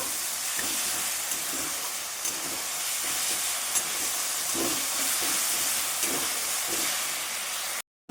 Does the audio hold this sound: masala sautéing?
yes